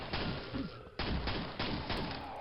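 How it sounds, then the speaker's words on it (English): Rapid bursts of nail gun fire in the game Quake, a quick series of sharp mechanical thuds in two or three close volleys, loud and near with no talk over them. "Making judicious use of the nail gun now"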